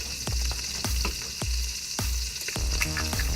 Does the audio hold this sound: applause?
no